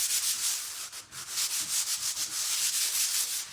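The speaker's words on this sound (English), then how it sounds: "I'm just gonna grab my sander." A power sander works across a white wood round with an unknown surface coating, a close, steady, rasping grind that pulses slightly as it moves, with no voices.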